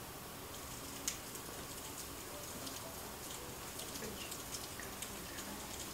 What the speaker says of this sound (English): It's a snapping shrimp.